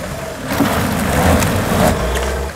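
A Jeep with front-wheel drive only pulls away, its engine rising to a loud, close, steady drone that eases off toward the end, with no voices.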